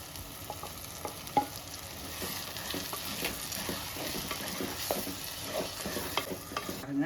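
Onions and tomato frying for a Jalebi fish curry, a soft sizzle under frequent rhythmic stirring scrapes and clicks of a spoon in the pan, fairly quiet, no speech.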